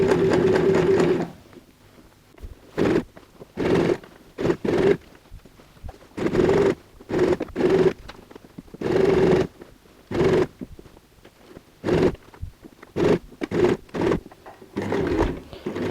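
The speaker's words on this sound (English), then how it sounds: "try and sew on the stitch that we have used to sew on the zipper" A sewing machine stitching a zipper onto a tote bag made from curtain fabric, running in repeated short bursts of rapid whirring stitches with brief pauses between them, close and clear with no talking.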